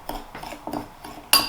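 A spoon stirs a gelatin jelly mixture in a bowl, clinking against the sides in a steady rhythm of soft scrapes and taps about three times a second, ending with a sharper, brighter clink.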